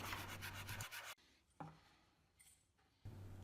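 Small wooden pieces are rubbed against a custom sanding block in a fast, rasping back-and-forth scrub, close and clear, broken by a pause with light knocks before the sanding resumes.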